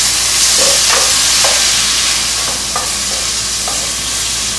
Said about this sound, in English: We're going to add our salt and the best part, the shrimp now. You're going to let this cook medium heat